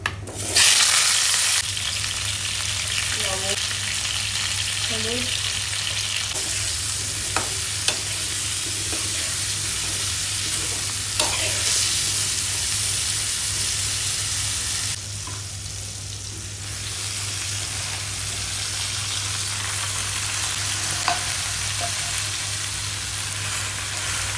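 Potato and pumpkin pieces fry in hot oil with dried chili and five-spice, giving a continuous close sizzle, broken by occasional stirring clinks and scrapes from a spoon against the pan.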